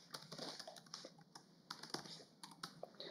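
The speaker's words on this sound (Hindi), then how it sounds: "आपको टाइप कर देना है।" A password being typed on a computer keyboard, a quick, uneven run of soft key clicks close by in a quiet room.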